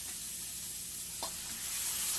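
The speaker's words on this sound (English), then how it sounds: "Everything seems to be frying up real nice." Cheesy potato patties sizzle steadily in a pan, a soft continuous frying hiss with one brief clink partway through and no talk.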